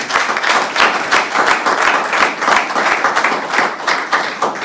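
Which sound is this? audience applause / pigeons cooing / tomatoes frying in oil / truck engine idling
audience applause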